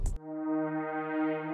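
A hybrid synth pad from a string patch sustains a simple pattern of steady, layered harmonic tones after a brief noisy onset, held smooth and even in loudness with no voices.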